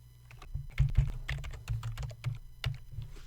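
Rapid typing on a computer keyboard, a steady run of close, crisp key clicks with uneven rhythm and no voices.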